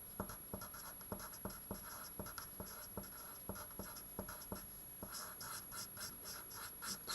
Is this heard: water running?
no